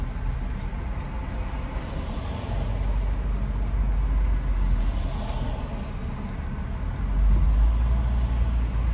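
Steady low engine hum and tyre rumble inside a car moving along a road, constant and moderately loud, swelling slightly near the end, no voices.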